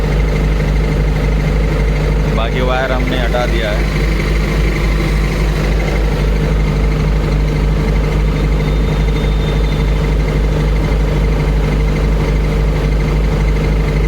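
A Kirloskar diesel generator engine idles steadily in its cool-down phase, a constant low hum with a strong fixed tone running the whole time, while someone speaks briefly over it near the start.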